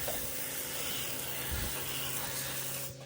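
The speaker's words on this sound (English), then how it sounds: "I'm gonna spray those snail tracks off of there" A pressure washer spraying water over a small garage roof to blast off snail tracks, a steady broad hiss of spray with a constant low hum, fairly quiet, dropping away at the very end.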